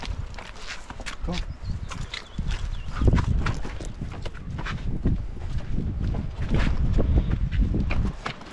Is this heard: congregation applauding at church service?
no